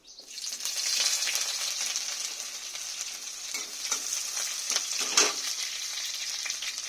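A whole chopped onion sizzles in hot oil with black cumin seeds in a pan, a steady close hiss holding throughout with a brief scraping burst near the end.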